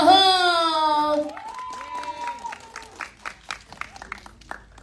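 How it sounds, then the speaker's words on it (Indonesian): Applause for a film team at a press conference. A voice first calls out, then scattered claps from a small group of people break out and come in uneven bursts that grow steadily more spaced and fade. "beri tepuk tangan yang paling meriah untuk seluruh tim dari Virgo and the Sparklings"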